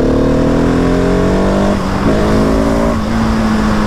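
A 2020 Husqvarna 701 SM motorcycle engine revs hard and close during a wheelie, its pitch climbing steadily, dropping sharply at two gear shifts and then climbing again.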